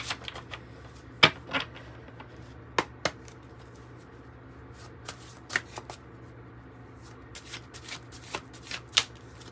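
Oracle cards being shuffled by hand, a string of crisp, irregular slaps and riffles of varying loudness over about ten seconds against a quiet room hum, with no talking.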